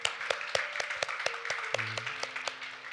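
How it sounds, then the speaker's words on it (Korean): Church congregation at a Sunday worship service clapping in thanks and praise, sharp evenly spaced claps in a steady beat with a sustained tone and faint voices underneath. "우리 하나님께 감사와 영광의 박수를 드리겠습니다."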